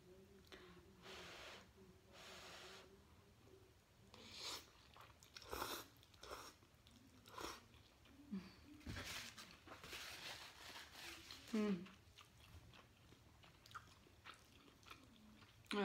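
Mushroom from a bowl of spicy Shin Black noodle soup being chewed close up, with soft wet bites and slurpy mouth noises recurring irregularly, plus occasional brief rustles between chews.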